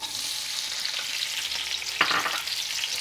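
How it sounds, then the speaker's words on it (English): Red pepper, green pepper and onion fry over relatively high heat in a pan for a restaurant-style chicken jalfrezi, a steady close hiss with a brief stirring scrape partway through. "I really want to fry out the red pepper, green and the onion."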